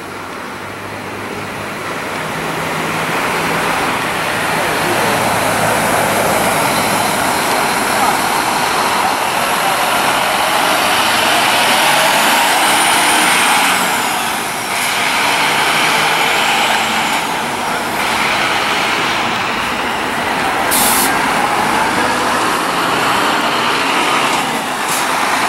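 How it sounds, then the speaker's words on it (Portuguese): A bus pulls out of the Tietê bus terminal in São Paulo on the Carnival holiday. Its steady, loud engine rumble blends with broad traffic and hiss for the whole stretch. "Agora saindo um carro da Santa Cruz aí para Guaxupé."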